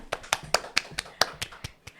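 About nine sparse, faint hand claps for the students in a quiet podcast room, spaced at a loose, even rhythm by what sounds like a small handful of people.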